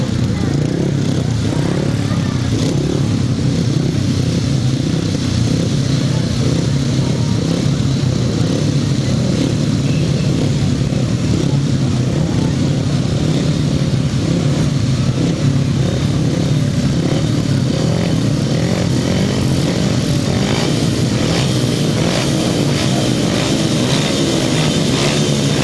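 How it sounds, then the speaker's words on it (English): Grasstrack racing motorcycles roar continuously at a Champion of Champions meeting, a loud sustained engine drone that stays dense and steady throughout, with a track announcer's voice over it. "Race 4 and it's Winter 500 for their first leg ride this afternoon, and off start by Gareth."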